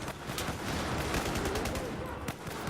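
Battlefield 4 multiplayer gunfire crackles steadily at moderate distance through a busy battlefield mix, with rapid shots overlapping in a continuous fusillade for a few seconds.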